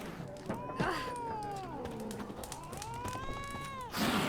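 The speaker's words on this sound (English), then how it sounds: "Yeah, I hear you, cat." A cat meows in The Witcher III, two long, wavering, drawn-out cries rising and falling in pitch over steady game ambience, with no talking.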